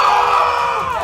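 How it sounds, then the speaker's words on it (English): One person lets out a loud, sustained scream close to the microphone during a tabletop Dungeons and Dragons game. The scream holds high, then slides down in pitch as it ends. "I'm gonna scream"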